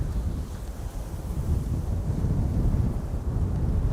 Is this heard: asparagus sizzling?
no